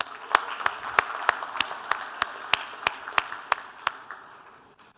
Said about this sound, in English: A round of applause for them, everyone.